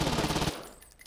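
Rapid automatic gunfire from the video game Saints Row 2, a loud dense burst of shots lasting about half a second, then a brief lull before another loud hit.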